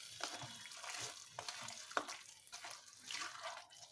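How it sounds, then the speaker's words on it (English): Masala-coated pieces being stirred in a pan, giving soft, irregular scraping and tossing sounds with a faint background sizzle. No one speaks. "So give it a nice stir, mix everything well."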